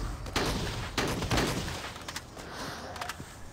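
Shooting in the zombie game Unkilled, with several loud separated blasts and bursts spread across the span, followed by quieter scattered shots and background game noise.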